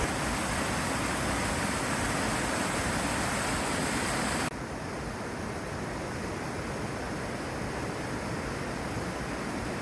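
A steady, dense roar of an Icelandic waterfall heard from close below it, continuous broadband rushing that drops slightly in level partway through, with no voices.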